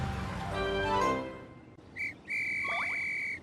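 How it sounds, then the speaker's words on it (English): A loud, shrill whistle sounds in two sharp blasts, a short one then a longer sustained one, following a brief burst of rising musical tones in a children's animated story about a police officer near a street. "Suddenly, Kip heard a loud whistle."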